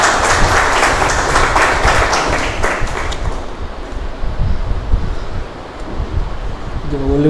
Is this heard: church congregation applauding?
yes